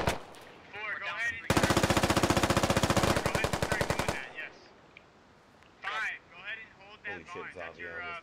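Rapid automatic gunfire in the military shooter Squad, a loud sustained burst of evenly spaced shots lasting about three seconds, with voice chat talking before and after.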